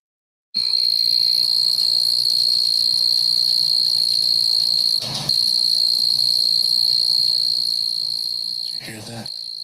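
Crickets on a summer night in Tennessee, a loud, dense, unbroken high chirping chorus close by, with brief bumps of handling noise near the middle and end.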